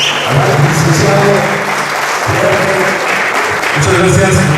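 Strong audience applause welcoming a speaker from Colombia onto a stage in Bolivia, loud and dense throughout, with crowd murmur and possible voices mixed in.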